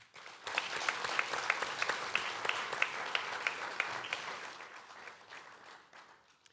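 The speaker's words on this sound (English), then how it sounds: "let's give a round of applause to the distinguished Montserratians who were honored here tonight" An audience at a national honours and awards ceremony in Montserrat breaks into applause for the honorees, a full crowd clapping steadily for several seconds before tapering off.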